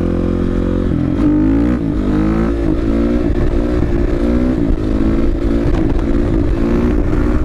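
A supermoto motorcycle engine revs hard during a wheelie, loud and close, with rising and falling pitch sweeps over a constant rumbling drone and no talking.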